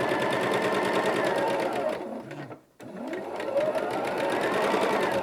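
Sewing machine stitching rows of a quilt over pinned fabric, a fast, steady mechanical whir that runs close and loud, breaks off for a moment, then starts again.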